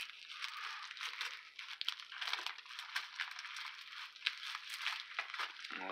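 Close crinkling and tearing of plastic packaging as a part, apparently lenses, is pulled from a bag, steady rustling with occasional sharper crackles and no voices.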